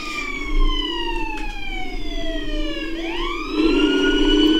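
A lifeguard ambulance siren wails loudly nearby, with a falling tone that sweeps back up into a new cycle over steady vehicle rumble.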